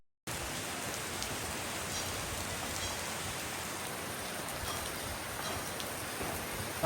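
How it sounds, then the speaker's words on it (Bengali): Sudden heavy rain pours onto a street, a dense steady hiss of downpour that starts abruptly after a brief silence and continues evenly and moderately loud, with no voices. "রাস্তায় সাডেন বৃষ্টি শুরু হয়ে গেছে"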